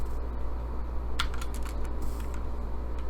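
Computer keyboard typing CSS code, a short burst of light, fast key clicks heard close up over a steady low hum, with no talking.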